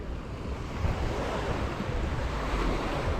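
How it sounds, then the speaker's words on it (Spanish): Strong wind buffets the microphone on a Caribbean beach while surf rolls in, a steady loud roar of gusts and breaking waves with no voices. "Sí que hay mucho aire ahora, ya lo veis."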